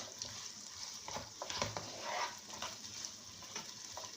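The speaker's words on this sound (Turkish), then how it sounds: "Ve salçamızı da kavuruyoruz. Sebzelerle beraber." Tomato paste sautéing with vegetables in a pan gives a steady, close sizzle with scattered soft clicks and stirring scrapes, fairly quiet and with no talking.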